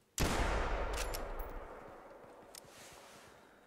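A single sharp rifle shot from a .405 lever action rifle in theHunter Classic, fired at a bison about 20 meters away. The loud report cracks once and then rolls away in a long, fading outdoor echo.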